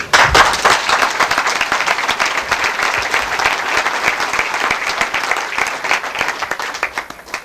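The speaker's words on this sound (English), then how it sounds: "you deserve a round of applause" Loud, sustained applause from a banquet audience at a handball nationals Hall of Fame dinner, dense clapping that continues without a break throughout.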